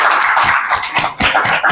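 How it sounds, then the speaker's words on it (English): Several people clap together for under two seconds, a dense patter of sharp close slaps with a brief lull near the middle. They are indoors and fairly loud, with no talking. "they're clapping for us"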